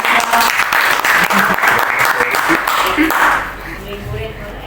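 Applause from a group of teachers at a training session on sharing a learning module, loud and dense for about three seconds and then fading to a softer patter, with a voice talking over it.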